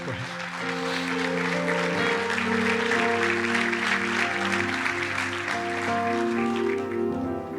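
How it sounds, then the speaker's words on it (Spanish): A church congregation applauds during a sermon, steady dense clapping filling the room while sustained musical tones play underneath throughout. "Denle un fuerte aplauso a Dios"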